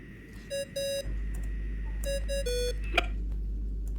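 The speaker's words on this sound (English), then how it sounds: "I really hate that ringing tone." Ringing tone in Genshin Impact, a series of short electronic beeps in a repeating melodic pattern over a low steady hum, with a brief sharp click near the end; no voices.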